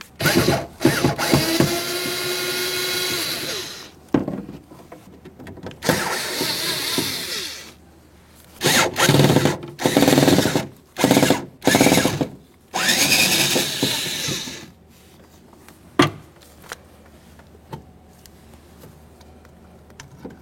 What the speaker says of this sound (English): we can remove the 3 mounting screws holding this in place. We'll use a Phillips head for these.